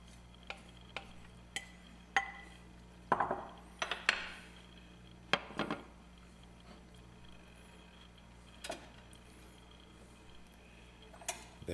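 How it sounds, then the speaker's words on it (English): A dinner plate with warm vegetables being set down beside a steak, giving a few light ceramic clinks and scrapes, then scattered soft taps of dishes and cutlery against a quiet room hum. "I'll put my dinner plate there so that we can see it."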